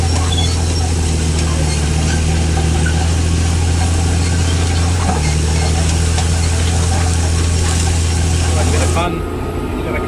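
Farm machinery engine running steadily in a paddock during planting, with a sprayer working ahead of the planter; a constant loud low drone with a strong hum throughout, dropping off near the end.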